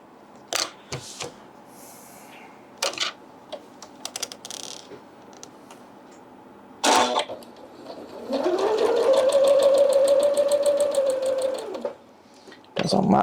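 A sewing machine stitching small quilt block pieces for a farm star block, running in a steady fast whir for several seconds after scattered clicks and handling sounds, loud and close.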